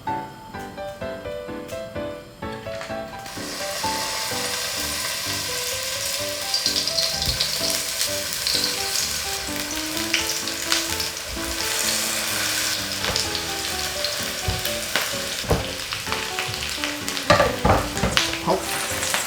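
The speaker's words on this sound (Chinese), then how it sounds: "那我们起油锅来煎这个节瓜虾滑" Zucchini and cuttlefish shrimp paste patties pan-fry in hot oil, a loud continuous sizzle with crackling pops and occasional scrapes of stirring, starting after a brief quieter moment.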